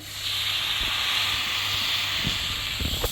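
Water poured into a hot pan while cooking Bengali bitter greens with salt and turmeric sets off a loud, steady steam hiss that starts almost at once and holds for about three seconds, with faint clatter underneath.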